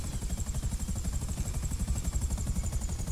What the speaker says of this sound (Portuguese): Vou pousar o helicóptero aqui.